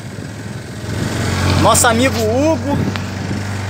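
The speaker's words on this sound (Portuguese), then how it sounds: "já preparou o motor" A boat motor runs steadily at close range for an outing on a river, a constant low drone beneath loud Portuguese conversation.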